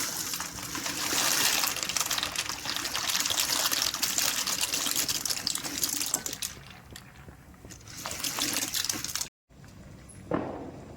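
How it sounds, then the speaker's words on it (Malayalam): Macaroni tips into a pot of boiling salted water, a steady rushing, bubbling pour that thins out, cuts off sharply, then ends in a brief knock. "വെള്ളം തിളച്ചിട്ടുണ്ട്. ഇപ്പോൾ മക്രോണി ഇടാം"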